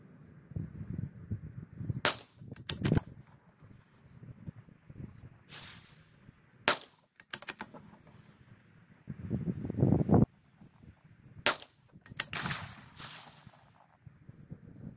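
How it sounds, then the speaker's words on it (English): A Christensen Arms Ranger .22 rifle fires CCI Standard Velocity rounds outdoors, with about six sharp, fairly loud cracks at irregular intervals and quieter shuffling and faint birds between them. "last group with the Christensen Ranger 22."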